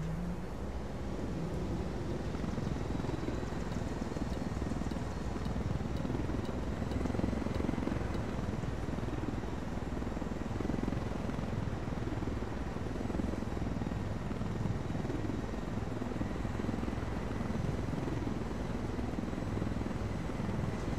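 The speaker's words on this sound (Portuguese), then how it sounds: "vamos com o helicóptero que é mais fácil" A helicopter in Ghost Recon Wildlands gives a continuous, dense engine and rotor drone with rushing wind, steady and fairly loud for about twenty seconds, no speech.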